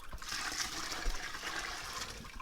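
Wort drains steadily from a mash vessel while a Cashmere and Idaho 7 IPA is brewed: a continuous close hiss of running liquid at moderate volume, with no one speaking.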